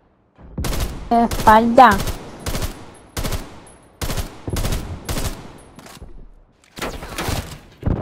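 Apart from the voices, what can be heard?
gunfire from a sniper in video game Call of Duty: Black Ops Cold War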